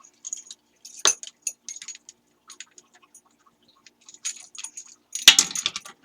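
Two small keys for a First Alert keypad safe jangle and clink in short, irregular bursts, close and crisp, with quiet gaps between and a louder rattle near the end.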